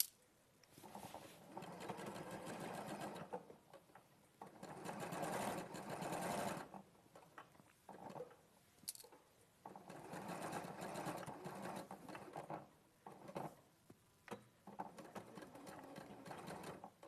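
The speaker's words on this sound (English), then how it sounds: "And then I'll stitch from the snip to the tailor tack." A sewing machine stitches fabric from a snip to a tailor tack, running in several steady whirring bursts separated by short pauses, close and fairly quiet.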